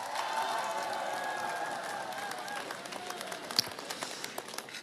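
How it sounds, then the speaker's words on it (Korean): Audience applause and cheering at a Democratic Party political concert event in South Jeollanam-do, a broad steady crowd roar that thins into scattered claps toward the end. "다시 한번 뜨거운 박수 부탁드립니다"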